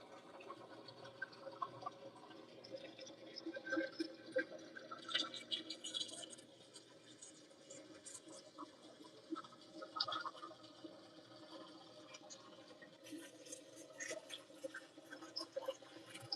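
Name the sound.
GE GTW220ACW0WW top-loading washer draining water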